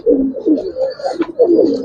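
Pigeons cooing in a fancier's loft of Giribaz and coloured pigeons, low murmuring coos in a few repeated bursts, close and fairly loud, with no talk.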